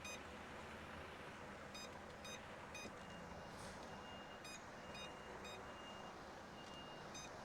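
A big truck reverses nearby, its backup alarm sounding repeated evenly spaced beeps over a constant, noisy engine and traffic rumble, fairly faint and without talk.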